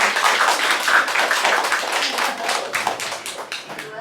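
An audience at a film Q&A session during a film week festival breaks into clapping, a moderately loud patter of hands that gradually thins and fades toward the end.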